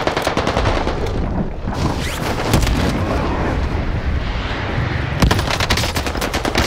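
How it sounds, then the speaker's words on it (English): Heavy gunfire rattles through a Warzone match: loud automatic bursts and rapid shots crowd the scene, pausing briefly before a fresh volley near the end. "taking heavy fire"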